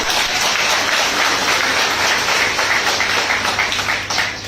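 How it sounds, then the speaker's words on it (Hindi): Loud, sustained applause from a seminar audience, dense clapping filling the whole stretch without a break and only easing slightly near the end. "बहुत बढ़िया, जोरदार तालियां।"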